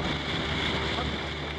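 Inflatable rescue boat being launched through low-tide surf at Piha beach, with a loud continuous wash of waves and wind buffeting the microphone.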